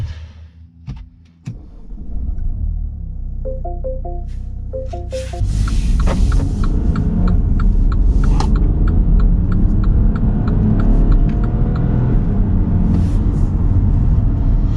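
A 2020 Mini Countryman Signature with a 7-speed dual clutch transmission is started and driven on the road: clicks and a brief electronic chime, then a steady engine hum and road rumble that continue to the end.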